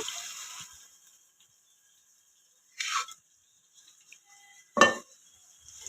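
Cooked mutton pieces are stirred with spices in a pan, giving a few sparse metallic scrapes and clinks of a utensil against the pan, with quiet gaps and no voices.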